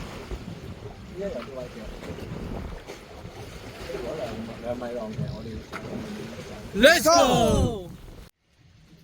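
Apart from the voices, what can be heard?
strong wind and sea waves while kayaking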